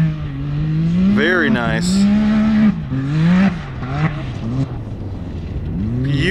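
A Can-Am Maverick X3 side-by-side races around a dirt track, carrying its inside front tire through a turn. Its engine drones loud and close with rising and falling pitch sweeps as the throttle opens and lifts, and a brief spoken remark cuts in.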